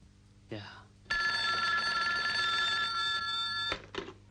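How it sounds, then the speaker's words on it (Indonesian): An old telephone bell rings loudly in a sustained burst of about two and a half seconds, followed by a short second ring, with brief speech sounds just before it. "Tak berselang lama mereka mendapat telepon dari Johnny"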